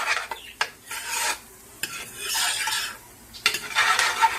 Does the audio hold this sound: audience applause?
no